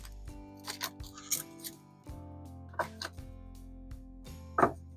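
Unpacking a Canon TS3350 printer: scattered crinkles and rustles of packaging and plastic with a few sharp handling noises over a low steady hum, close, with no speech.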